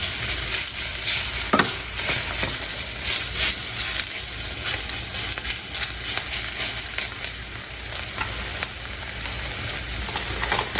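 Wet greens frying and sizzling in a skillet, getting a little char and crispiness, with steady crackling spatter throughout and occasional stirring scrapes, no voices.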